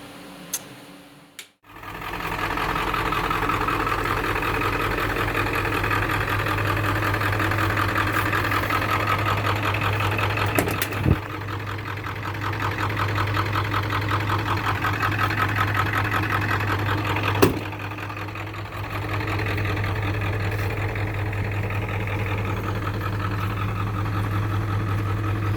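An old, beat-up farm truck idles with a steady low diesel rumble and fine rapid ticking, close and continuous, with a few brief knocks and clunks in between.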